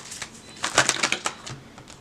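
A short, close burst of a deck of playing cards being riffle-shuffled, quick crisp clicks peaking and then trailing off, with no talking.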